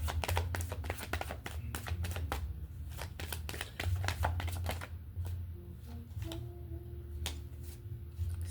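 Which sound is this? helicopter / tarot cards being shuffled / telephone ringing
tarot cards being shuffled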